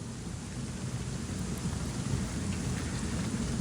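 Steady heavy rain with thunder rumbling throughout, a dense continuous roar of downpour during an outdoor dig in wet, muddy ground, close and fairly loud with no talking.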